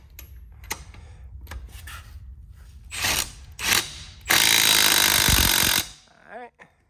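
A power tool tightens tire lug nuts during a wheel change, starting with scattered clicks and short bursts, then one loud, steady whirring burst lasting about a second and a half, followed by a brief voice.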